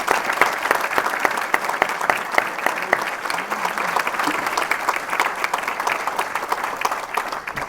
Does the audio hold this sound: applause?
yes